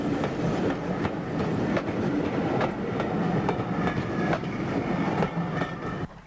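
A Q6 steam locomotive hauls a train past Esk Valley cottages on a special open day, a loud, close, continuous rumble of rolling stock with rhythmic clickety-clack of wheels over rail joints.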